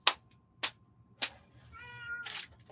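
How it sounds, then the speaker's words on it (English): A house cat meows in a rising, drawn-out call near the end, following a few sharp knocks and thumps, close and fairly clear in a quiet indoor room. "Oh my gosh, cat!"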